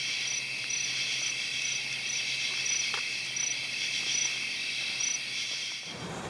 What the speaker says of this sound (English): Grasshoppers, wasps, mantises, and crickets were everywhere. The evening chorus was immense and beautiful.